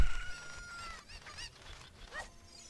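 Chicken clucking in the video game Zelda Ocarina of Time, a few short squawky bursts over a quiet game background, with no talk.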